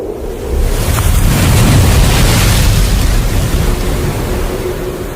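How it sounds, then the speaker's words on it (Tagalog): A strong storm at sea, with loud roaring wind and heavy surf surging steadily against a boat for several seconds, no voices. "adunay kusog kaayo nga bagyo nga miabot"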